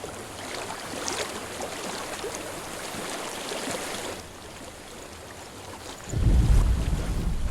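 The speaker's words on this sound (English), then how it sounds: "I hear water." Flowing water with wind rushes as a broad, steady wash in a video game, Hellblade: Senua's Sacrifice. It eases slightly midway, then a deeper, louder rumbling surge comes in near the end, with no voices.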